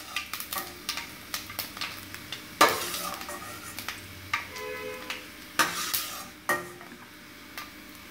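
Roasted broken wheat scraped from a pan into a bowl, a run of short scraping and clinking strokes at an irregular rhythm, with one louder scrape partway through, close and fairly quiet.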